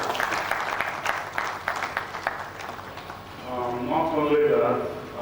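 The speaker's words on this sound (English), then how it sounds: "Please can we give another round of applause" Applause at a higher education conference on funding and graduate employability. Many hands clap in a thick, lively burst for roughly three seconds, then it fades as a speaking voice takes over.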